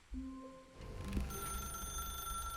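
A telephone in the video game The Stanley Parable rings with a steady electronic trill that holds through the short stretch, fairly close, over a low background hum with no talking.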